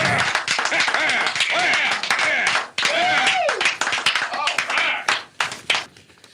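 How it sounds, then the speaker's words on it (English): Sharp clapping during a live talk radio show, with a round of applause from a few hands rattling through several seconds while people keep talking over it. "We should give a round of applause for that."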